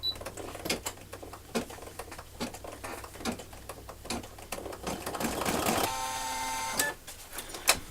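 An embroidery machine stitching placement and tack-down lines on white felt and clear vinyl: rapid rhythmic needle clatter with quick regular ticks, rising into a denser whirring run near the end, close and steady with no talking.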